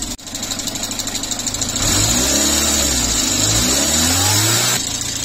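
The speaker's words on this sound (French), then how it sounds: "des trous dans l'accélération et en fin de compte c'est l'allumage qu'il faut changer" Renault Super 5 with a worn ignition idles roughly with a ticking pulse, then revs up and down in several uneven, hesitating surges, loud and close, with no talk.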